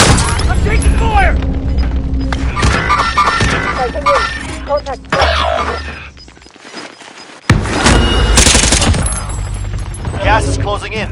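Video game firefight with dense bursts of gunfire and booms, loud and nearly continuous, a brief lull midway before heavy shooting resumes, with game voice callouts mixed in.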